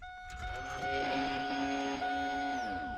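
An old car's electric fuel pump runs with the ignition switched on and an empty tank. It makes a steady, loud buzzing whine with a tonal hum that holds evenly for a few seconds, with no talk.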